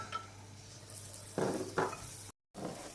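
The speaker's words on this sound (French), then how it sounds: "40 g de beurre, on va attendre que ça fonde. 40 g de farine." Butter and flour cooking into a roux in a pan for a béchamel, with a soft steady sizzle and a few clearer stirring scrapes against the pan, heard alone at close range.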